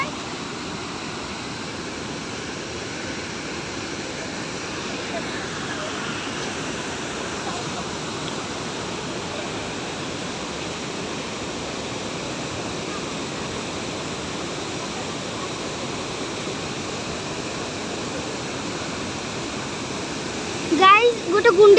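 The Gundicha Ghai waterfall in Keonjhar roars as a constant, even rush of falling water, with a few brief bumps of handling noise near the end.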